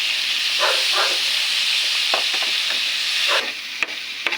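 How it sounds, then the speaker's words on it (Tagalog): Tomatoes sautéing in a pan give a constant loud sizzle and hiss, with soft scraping stirs and a few sharp utensil knocks near the end. "Ngayon naman po, magigisa po tayo ng kamatis"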